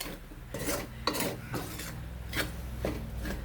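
Mango chammanthi powder is stirred in a pan, making close, gritty rasping scrapes in several distinct strokes over a continuous dry background rustle, with no voices.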